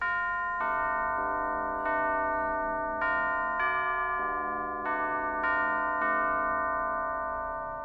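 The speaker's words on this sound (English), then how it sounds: "Only by playing the correct sequence of bells can it be opened." A sequence of bell tones plays as a puzzle melody in Alice: Madness Returns, with about eight bright, ringing strikes at steady intervals, each note overlapping the last and sustaining clearly with no talk.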